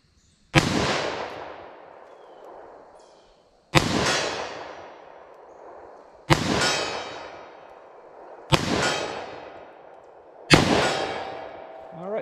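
.357 Magnum snub-nose revolver fired five times outdoors, each loud sharp crack spaced about two seconds apart and followed by a ringing, echoing decay.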